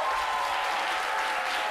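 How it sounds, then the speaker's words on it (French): Audience applause at a ceremony for an institute's training program, a steady dense burst of clapping from a crowd, fairly distant and even throughout. "Merci de bien vouloir vous applaudir vous-même."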